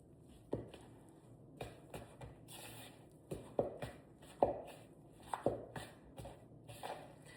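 Blueberry biscuit dough being stirred in a bowl, a quiet series of soft, irregular thumps and scrapes roughly once a second, close and muted, with no voices.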